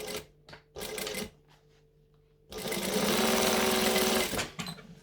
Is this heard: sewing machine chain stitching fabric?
yes